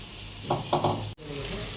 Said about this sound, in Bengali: আমি এখানে মাংসের জন্য পেঁয়াজ ভাজছি